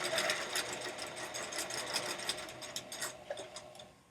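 A sewing machine stitches a seam on a fitted fabric face mask, a fast, steady mechanical whirring and clatter heard close up and alone, with a brief pause near the end.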